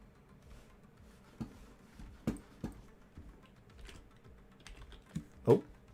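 Someone types on a computer keyboard in a few faint, uneven bursts. Scattered soft key clicks are followed by a couple of louder taps near the end, with no talking.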